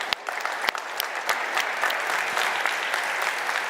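Conference audience at a plenary session claps warmly, with a few sharp early claps building into a steady, even patter of applause that continues throughout.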